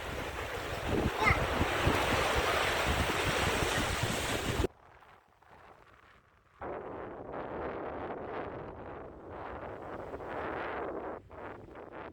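Sea waves and surf at Port Noarlunga beach in South Australia, a steady loud wash of breaking water with wind buffeting the microphone, cutting out briefly to near silence before the surf noise returns.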